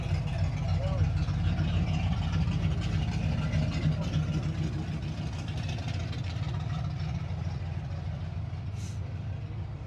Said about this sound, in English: Beautiful Camaro. Super Sport. That 396 engine.